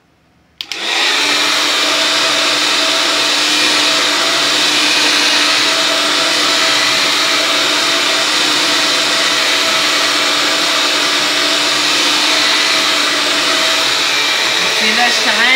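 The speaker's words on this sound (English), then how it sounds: "we're going to make sure we're holding our blow dryer always down the hair the way that it grows out of the head" A blow dryer switches on with a click and then whirs loudly and steadily close by while drying hair, with a constant high airy hum throughout.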